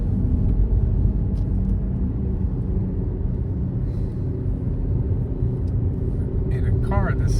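A car climbing a mountain road toward Black Rock State Park in northern Georgia, with a steady low engine and road rumble throughout and a faint chirp near the end.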